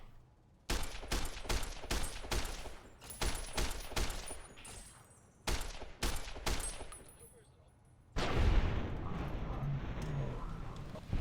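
Service rifle gunfire in Fallout: New Vegas rings out in quick bursts of loud, sharp shots with short pauses between volleys, followed by a rougher, noisier stretch of combat sound.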